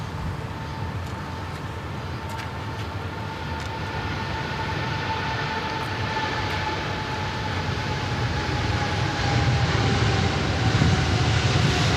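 A heavy airliner taking off at Sydney Airport, a broad, steady engine roar that slowly swells in loudness over several seconds, with a sustained whine running through it.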